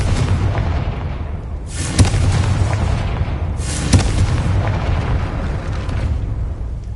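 Confringo spell blasts in the video game Hogwarts Legacy: two loud booming explosions about two seconds apart over a continuous rumbling game soundscape.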